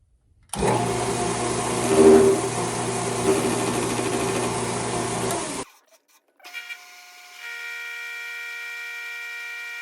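A Grizzly G0602 metal lathe turning a part runs with a loud, steady motor whine for about five seconds, then cuts off, and a quieter electrical hum follows.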